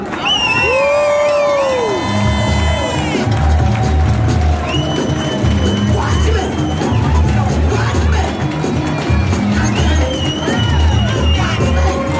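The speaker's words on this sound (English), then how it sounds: "Let's give a round of applause for Don." A large crowd at a union autoworkers' rally cheers loudly, with whoops, shouts and continuous applause swelling through the whole stretch, dense and close.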